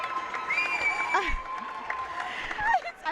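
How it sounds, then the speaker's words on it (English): A crowd screams and cheers in a hall at the final of the World Jigsaw Puzzle Championship 2024, a dense continuous roar with shrill whistles and shouts, while a person talks over the din. "We can hardly hear each other because of the screaming and cheering."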